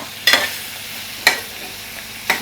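Chicken shallow frying in a hot pan is stirred, three sharp scraping strokes about a second apart over a low steady sizzle, close and wordless.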